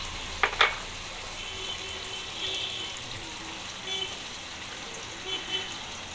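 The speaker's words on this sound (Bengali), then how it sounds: "এবার দিচ্ছি কিছুটা কুচানো টমেটো" Chopped tomatoes hitting a hot pan of soybean curry, giving a quick burst of sizzle near the start that settles into a steady low frying hiss with faint stirring clinks.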